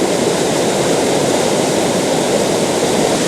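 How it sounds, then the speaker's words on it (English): A raging river rushes below a bridge, making a loud, continuous broadband roar of churning water with no breaks. "the water is raging"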